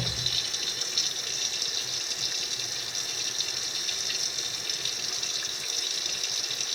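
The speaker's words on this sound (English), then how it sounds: "I let water run on the boot almost the whole time, just let it run." A tap runs steadily over a Wesco leather boot during cleaning, giving a constant hissing splash of water that stays even and close for the whole stretch without pauses.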